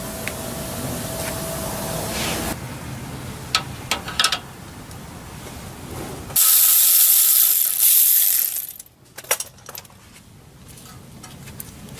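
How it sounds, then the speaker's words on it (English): Ratchet working a 12mm bolt during a front wheel bearing job on a Toyota Sequoia 4.7 4WD, heard as short bursts of clicking with quiet gaps between them and a brief loud hiss midway. "Now I'm gonna be removing this 12mm bolt here,"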